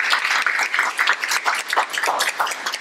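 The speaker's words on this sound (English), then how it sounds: "Let's get a round of applause for that." A room audience applauds young Latino artists at a panel discussion, brisk close clapping with uneven bursts, fairly loud and without speech.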